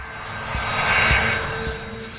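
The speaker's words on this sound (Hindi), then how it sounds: "जब पायलट इंजन स्टार्ट करता है तो तैयारा रफ्तार पकड़ता है और इंजन तेजी से घूमता है।" A large airliner's engines roar steadily and loudly as the jet speeds up for takeoff, swelling slightly in the middle with no voices.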